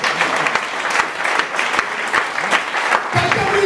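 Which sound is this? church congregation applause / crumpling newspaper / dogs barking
church congregation applause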